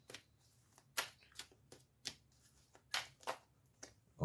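Cards being shuffled in repeated quick riffles, a crisp flurry of papery bursts spaced irregularly, close and clear with no talking.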